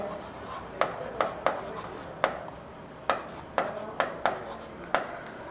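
Chalk or a marker writes on a board during a maths lesson, giving repeated sharp taps and short scratchy strokes under a teacher's speaking voice.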